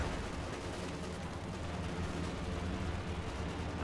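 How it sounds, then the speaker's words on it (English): Dense rattling gunfire from an aircraft strafing run in the real-time strategy game Company of Heroes 2, a continuous close burst of rapid shots and impacts with no pauses. "We see a strafing run coming down on..."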